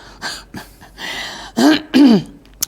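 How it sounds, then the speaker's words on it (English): Two hoarse, forceful throat-clearing bursts, close and loud, after some quieter vocal rustling and breaths. "let me clear my throat"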